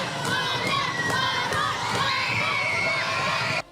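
A large crowd of schoolchildren at lunchtime shouts and cheers loudly and continuously, voices overlapping in an excited, echoing din.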